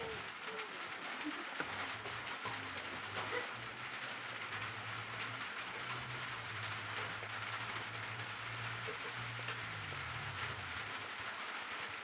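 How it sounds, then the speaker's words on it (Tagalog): Steady rain falls outside, a continuous even hiss with a low hum running beneath it and faint bird calls here and there, with no voices. "it's raining"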